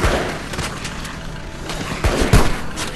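Gunfire in the mobile video game After Tomorrow, fired from a moving car at infected attackers: scattered sharp shots and low booms pop over a dense, rumbling background.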